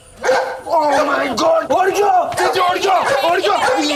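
A dog barks repeatedly in rapid, loud bursts close by, mixed with excited voices.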